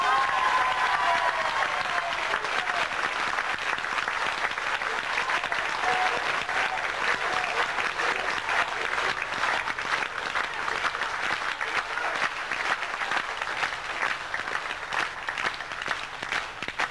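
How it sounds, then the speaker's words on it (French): A theatre audience applauds after a show, warm sustained clapping from a sizeable crowd that continues steadily throughout and eases slightly toward the end, with no talk over it. "Je vous demanderai d'applaudir chaleureusement Madame Liévin-Michel."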